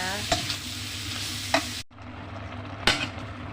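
Vegetables sizzle in a pan while a spatula strikes and scrapes it a few times; the sizzle drops out briefly, then resumes.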